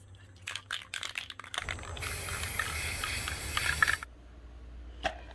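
Rust-Oleum 2X flat spray paint bursting from a can in a steady two-second hiss, preceded and followed by brief clicks and rattles, close and alone.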